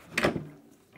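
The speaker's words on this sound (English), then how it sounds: "Push it until it clicks." A flat-pack drawer front on a Cooke & Lewis 500 three-drawer unit is pushed onto the drawer and snaps home with a short close click and brief rattle, followed by quiet.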